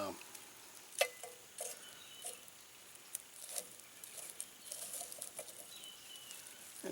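A knife blade held in a campfire while brewing pine needle tea gives a soft, steady hiss and crackle, broken by scattered sharp pops and ticks, fairly quiet and close throughout.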